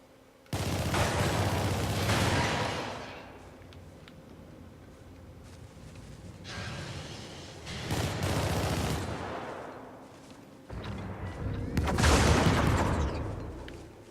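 Artillery firing for effect in a video game: heavy, rumbling blasts and rolling barrages arriving in three broad waves, loud and close with sustained low booming between them.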